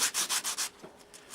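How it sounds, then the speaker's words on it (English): Rough sandpaper rubbed over a wooden part of a model signal box, five brisk close strokes in a steady rhythm, then a pause with a couple of faint light scuffs. "just a little bit of rougher sandpaper. That one. Give it a little bit of a sanding."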